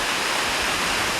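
A glorious waterfall roaring right beside a campsite in the Cranberry Wilderness of Monongahela National Forest, a loud, steady, unbroken wash of water noise filling the space.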